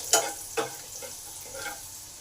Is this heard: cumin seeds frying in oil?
yes